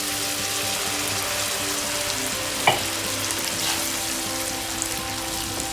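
Tomato paste chutney for momos fries and bubbles in a pan with a continuous sizzle, broken by one distinct spoon scrape midway and softer stirring after.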